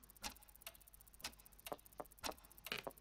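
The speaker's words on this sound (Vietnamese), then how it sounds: "Tiếng đồng hồ như nhanh hơn đúng không?" A clock in the Pocket Mirror video game ticks faintly but distinctly, with sharp, slightly uneven ticks that come closer together toward the end.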